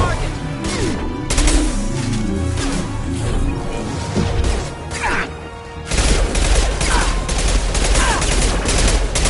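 Sustained gunfire in a Mass Effect 2 firefight, dense overlapping shots and impacts crackling continuously with a brief lull midway before the barrage resumes loudly.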